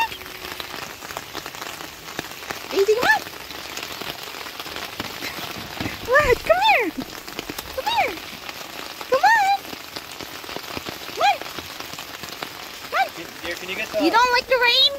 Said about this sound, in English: You don't like the rain?